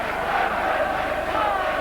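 A Hull rugby league crowd at a 1982 match against Widnes roars and cheers in a dense, sustained wash of many voices, loud and continuous with no pauses.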